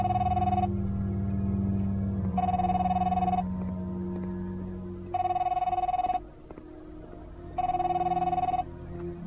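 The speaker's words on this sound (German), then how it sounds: "Telefon." Telephone in The Fidelio Incident video game rings in loud, regular electronic bursts, four rings separated by pauses, over a low droning ambient tone, with no voices.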